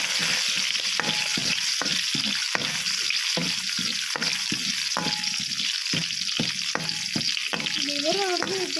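Chilli and garlic sizzle and crackle in hot oil in a pan for liver fry, a steady loud frying hiss with stirring clicks and scrapes throughout, close up and without talk.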